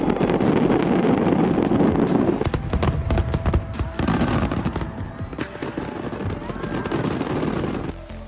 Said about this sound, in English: A fireworks display in Dalian, China on September 23, 2024.